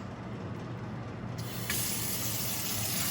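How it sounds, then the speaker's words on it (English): Water runs from a tap into a cooking pot holding beef ribs for pho, a steady close hiss that turns brighter and fuller partway through as the pot fills. "So there's just filling up some water here."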